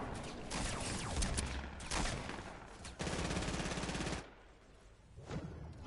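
Automatic gunfire in a first-person shooter video game, with dense bursts of shots rattling almost nonstop for about four seconds, then a brief lull before a couple of fainter shots.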